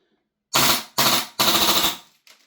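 Three loud, close gas blowback shots from a Krytac Maxim 9 airsoft pistol, each a sharp crack with a short rattling tail, followed by a fainter fourth burst.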